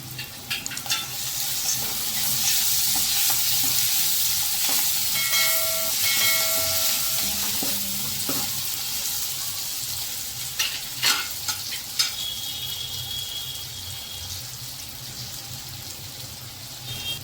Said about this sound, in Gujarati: હવે તેમાં સિંગદાણા નાખી દેશું।